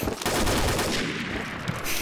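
Rapid automatic rifle fire from an M416 in a first-person shooter game's capture-the-flag match on a snowy map, a dense, loud, continuous burst of shots close to the player.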